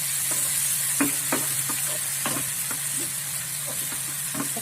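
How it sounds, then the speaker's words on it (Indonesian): Chili, ginger, bay leaf and lime leaf sauté in an oily pan with a continuous hissing sizzle, punctuated by sharp utensil knocks and scrapes as they are stirred; no talking. "Kita tumis."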